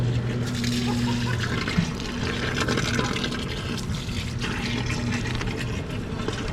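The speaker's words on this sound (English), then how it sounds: "This is the natural spring." Natural spring water in Manitou Springs, Colorado, pours and splashes steadily from a fountain, a continuous close gush with people talking faintly over it.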